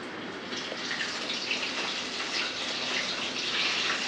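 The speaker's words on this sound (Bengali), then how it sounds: "আমার তেল গরম হয়ে গেছে, এখন আমি চিকেন উইংস গুলো ভাজবো।" Chicken wings deep frying in plenty of hot oil give a steady, busy sizzle with crackling bursts, close and moderately loud throughout, with no talking.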